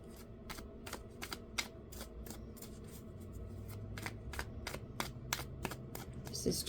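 Tarot cards are shuffled in quick, crisp riffles and taps that repeat at a steady pace, soft and close against a faint background hum.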